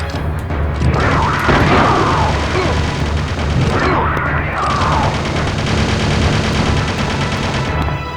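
Dense, loud gunfire in the Resident Evil Survivor video game, sustained rapid shots and bursts across the whole clip with a voice shouting over it.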